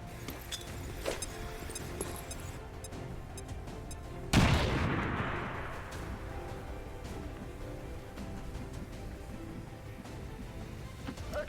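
A frag grenade in XCOM 2 goes off with one loud, close blast and a long rumbling decay, set amid a steady bed of game ambience and scattered clicks.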